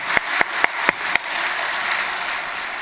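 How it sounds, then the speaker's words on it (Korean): Members of a church congregation clap in blessing for the high school department, with several distinct, evenly spaced loud claps up close over a continuous bed of crowd applause. "고등부에서 축복의 박수."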